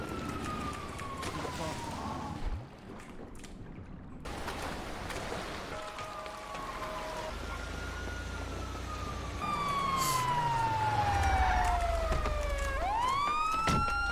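A police car siren in a video game sweeps up and down in loud, repeated wails over a busy layer of other game noise, growing louder toward the end.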